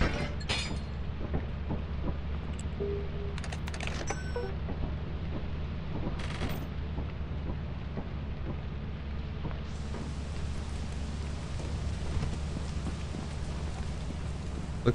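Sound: rain falling in Lethal Company video game

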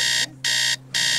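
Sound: alarm being sounded

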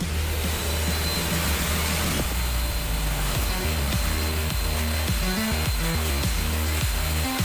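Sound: wet and dry vacuum cleaner running

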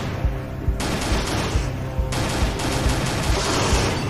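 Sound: gunfire in video game Z.O.N.A Shadow of Limansk Redux

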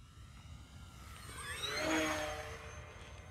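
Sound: E-flite P-51D RC airplane flying at full throttle

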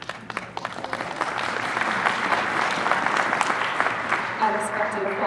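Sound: applause

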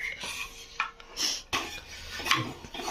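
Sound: dishes and pans clattering while cooking polis on a tawa

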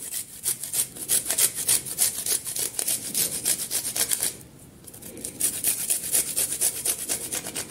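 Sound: grating garlic cloves on a grater

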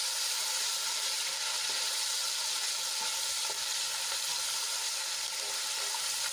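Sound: ginger garlic chili paste sautéing in oil

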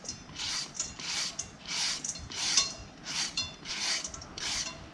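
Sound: shredding peeled papaya into strips with a julienne peeler

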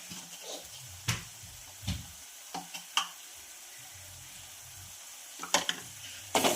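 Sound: spices (onion-garlic masala, coriander powder) frying in a pan

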